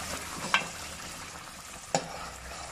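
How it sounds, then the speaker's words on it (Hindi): Kofta meatballs fry gently in a pan with a soft, steady sizzle and two sharp clinks of stirring, quiet and close without any talk. "देखिए हम इसे भून रहे हैं"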